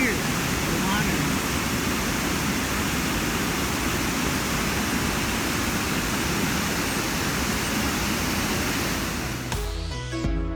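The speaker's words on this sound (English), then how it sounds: "You can hear the water." Water rushing steadily at the Old Mill in Pigeon Forge, Tennessee, a broad continuous roar close by that holds unbroken for about nine seconds before cutting off abruptly.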